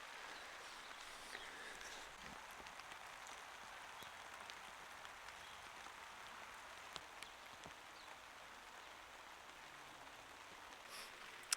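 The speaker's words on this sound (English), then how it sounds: "the moment I press record on this camera is the moment it started raining." Rain falls steadily on an allotment, a soft, even hiss of drops with occasional sharper patters nearby, fairly quiet and continuous with no talking.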